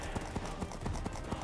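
Horse hooves clip-clop in a steady, fairly even trot in a Minecraft Mario Party video game, repeated beats under a dense game soundtrack and some voice.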